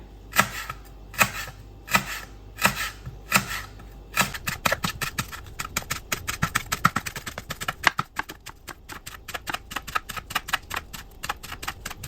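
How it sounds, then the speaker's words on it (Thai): A knife taps a board in sharp, evenly spaced chops, finely slicing ingredients for Thai fried fish cakes, first slow and spaced apart, then speeding into a rapid, steady rhythm of fine cutting. "หั่นเล็ก ๆ ค่ะ หั่นเหมือน เนี่ยซอยๆ เล็ก ๆ นะคะ"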